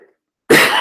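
A single sharp, loud cough right up close after a brief moment of silence, coming from a man during a business webinar.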